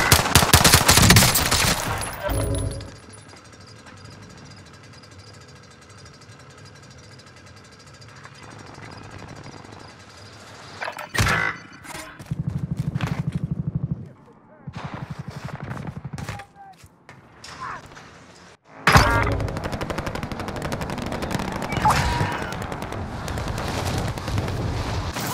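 Gunfire from the video game Call of Duty: Modern Warfare: loud bursts of automatic fire and booming shots. They come in heavy clusters at the start, then in sporadic volleys with lulls, and end in a dense barrage.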